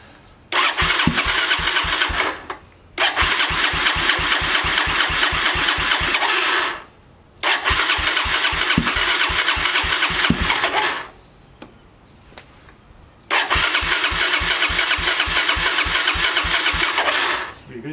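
A Suzuki DRZ400 motorcycle engine, running rich with a lithium battery, cranks in several long bursts, catches and settles into a steady idle, close and loud.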